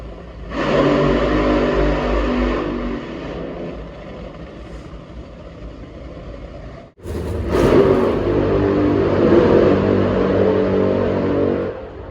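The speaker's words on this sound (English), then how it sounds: "So that was a burnout, about half a mile away" An NHRA drag racing car doing a burnout at a 2024 season opener, heard from about half a mile away through open car windows: a long, sustained distant engine roar that dips briefly, then swells back with a thudding bump.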